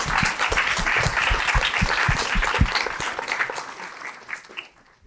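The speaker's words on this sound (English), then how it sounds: "Give yourselves a round of applause." A panel audience at a cyber workforce event breaks into applause, steady dense clapping that fades out over a few seconds.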